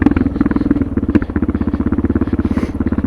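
A Suzuki DR650 motorcycle fitted with a Procycle jet kit chugs along in first gear at low revs, its single-cylinder exhaust pulsing in a fast, even, loud and close rhythm with no talk.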